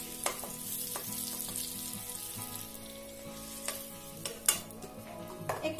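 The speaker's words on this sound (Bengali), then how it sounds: "এই দেখো কালো জিরে ফোড়ন দিয়ে কাঁচা লঙ্কা দিয়ে দেবো।" Nigella seeds and green chili tempering in hot oil for an hilsa and broccoli dish, a quiet crackling sizzle with intermittent sharp clinks and scrapes of a utensil against the pan, no voices.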